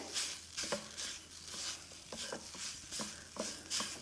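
Potatoes frying in a pan over a high flame, a soft continuous sizzle punctuated by repeated scraping strokes of a spatula stirring them, close and alone with no talking.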